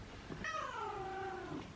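A cat gives a single close, drawn-out meow lasting about a second, rising then gently falling in pitch, heard alone over faint room noise.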